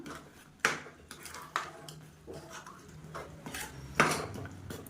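A spoon knocks and scrapes against a pot while a sweet rice mixture is stirred, with a few sharp clinks standing out among softer scraping, close and fairly quiet, with no talking.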